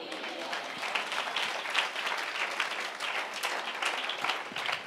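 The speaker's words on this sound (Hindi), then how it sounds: "ऐसे ऐसे तालियां बजाते हो" A congregation at a religious gathering claps in a dense, steady patter of many hands, moderately distant and sustained throughout.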